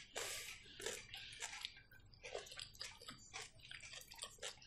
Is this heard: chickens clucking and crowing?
no